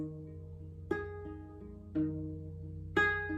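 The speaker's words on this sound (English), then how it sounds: "It's really great for finger-picked songs on acoustic guitar because you get this lovely little" Acoustic guitar finger-picked in 6/8 time in a gentle rolling pattern, notes ringing into each other, with a clear accent recurring about every second.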